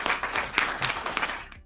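Scattered hand clapping, a brief burst of applause with uneven claps, moderately close and without clear speech over it.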